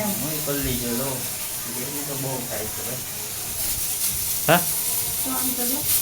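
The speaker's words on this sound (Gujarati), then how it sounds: "તળવાનું ચાલુ કરી દીધું" Gathiya snacks deep frying in hot oil, a bright continuous hiss and sizzle close by, with a voice talking over much of it.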